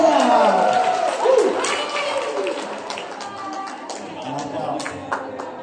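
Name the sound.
audience applause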